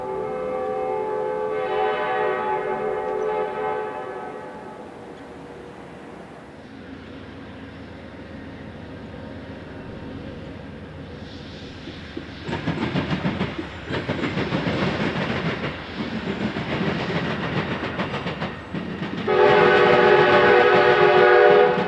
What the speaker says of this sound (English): The telltale horn of a P-42DC leads no question as to our next railroad.